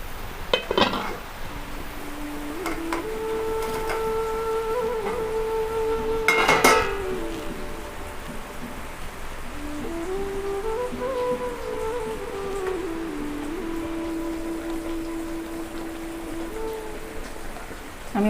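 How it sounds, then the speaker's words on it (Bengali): Raw banana kofta balls go into a simmering curry in a pan: a steady bubbling sizzle throughout, with a utensil clinking against the pot near the start and the middle, heard close up without speech. "বড়াগুলো দিয়ে দেবো এবার"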